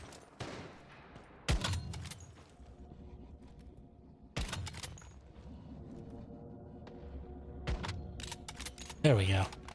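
Gunfire in the video game Once Human: a few sharp, loud shots ring out at separate moments against quieter game ambience, with a voice talking in between.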